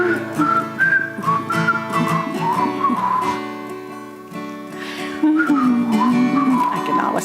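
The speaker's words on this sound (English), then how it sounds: "I cannot whistle like that." A person whistles a wavering, melodic tune at a Shabbat evening service, steady and fairly close for several phrases, with a brief dip midway and a stronger return near the end.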